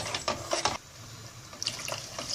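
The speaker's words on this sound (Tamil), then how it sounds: "தண்ணி விடுறேன்" Water is poured into a thick lentil dumpling curry with coconut paste, giving short splashing gushes of liquid in a few bursts with quiet gaps between them, close and moderately loud.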